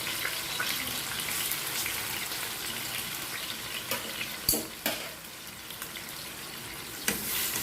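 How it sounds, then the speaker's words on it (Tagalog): A fish head frying in a pan gives a steady, close hiss of sizzling oil with occasional sharp pops and spatters, and no voices over it. "Well done ang ating pagprito dito sa ating isda na ito."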